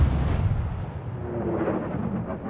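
A deep, heavy boom from battleship guns firing in a naval video game hits hard at the start, then rolls away into a long low rumble with no talk.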